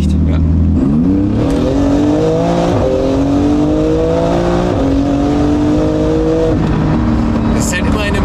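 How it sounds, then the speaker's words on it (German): An 850 hp Porsche GT2 RS accelerating hard, heard from inside as a loud, continuous engine roar climbing in pitch through several gear changes, with people talking over it. "Dass man wirklich unterschätzt, wie schnell so ein Auto dann eigentlich gerade beschleunigt."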